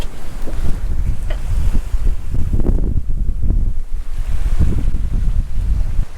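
A sailboat under way on open water, with steady wind buffeting the microphone and waves washing against the hull in a continuous, loud rush that never lets up.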